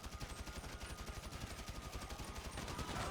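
Rapid automatic gunfire in GTA 5, a fast regular burst of shots repeating evenly throughout and getting slightly louder toward the end, no talking.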